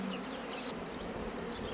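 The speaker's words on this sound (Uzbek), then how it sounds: "Endi bir romga arida o'zi shuncha ming ari bor." Honeybees swarm densely around a frame lifted from a hive, a thick, steady buzzing drone that holds close and loud throughout with no pauses and no voices.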